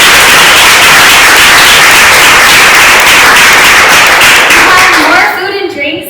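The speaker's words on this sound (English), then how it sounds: "let's give Rachel a round of applause" Audience applause at a UX design meetup in Chicago, a loud, dense wash of many hands clapping steadily for about five seconds before thinning out as a voice starts talking near the end.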